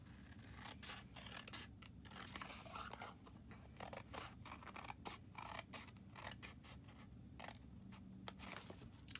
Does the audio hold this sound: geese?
no